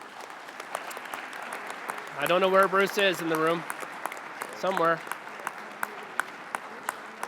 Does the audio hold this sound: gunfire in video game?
no